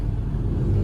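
Street traffic in a town at night rumbles steadily as a car engine drones close by, a brief, continuous low hum with no voices.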